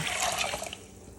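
Water pours into a cooking pot with chicken broth, a brief splashing, trickling fill that tapers off into a few faint drips, heard alone and fairly quiet.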